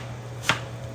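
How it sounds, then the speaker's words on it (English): A single knife chop through eggplant being sliced thin for a stir fry, one sharp cut midway over a steady low hum, fairly close. "for the eggplant, I like to cut it very thin because I'm going to stir fry it"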